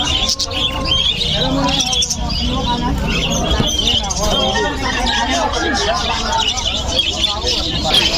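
Hagoromo parakeets chirp and tweet in a busy bird market, a dense layer of bright calls over a steady babble of nearby voices, with people talking throughout.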